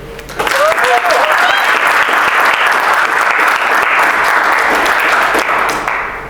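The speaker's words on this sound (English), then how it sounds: "One last round of applause for Lieutenant Colonel Williams and Lieutenant Colonel Bowman." Applause at a military promotion ceremony swells quickly into loud, dense clapping from the assembled crowd, holds steady, and tapers off near the end, with a few voices and whoops mixed in.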